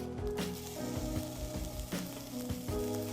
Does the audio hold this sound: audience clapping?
no